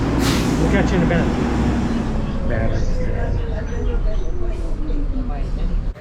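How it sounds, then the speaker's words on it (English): Trucks roar past close by on a roadside, a loud continuous rumble with a hiss of air brakes as a voice talks over the traffic. "these trucks coming by. Sorry for the noise."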